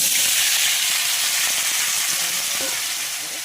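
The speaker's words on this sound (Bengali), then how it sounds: "এই যে দিলাম কাঁচা লঙ্কা ফোড়ন দিয়ে" Green chillies dropped as a tempering into hot oil in a wok for a fish curry, a loud close hiss and sizzle that holds steady and fades slightly at the end, with no talking.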